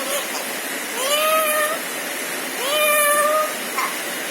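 Two drawn-out meows sound close by, one after the other with a short pause between them, over a steady hiss of rain in the background.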